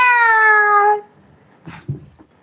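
A person imitates a cat with one long, clear, drawn-out meow at close range, followed by a few faint bumps and rustles.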